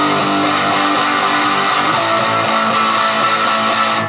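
Loud, dense strummed electric guitar chords with a steady driving rhythm, palm-muted chugging opening up into fuller ringing chords as the part builds.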